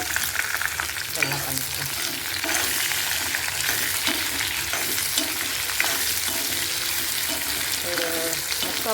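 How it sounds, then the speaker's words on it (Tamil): Onion, garlic, dried red chilli and dal fry in a hot pan for a spicy kara chutney, giving a steady, dense sizzle throughout with a few stirring scrapes and a brief quiet voice. "இதில் வந்து வெங்காயம், பூண்டு, காஞ்ச மிளகாய் இருக்குது. எல்லாத்தையும் போட்டு வைக்கலாம்"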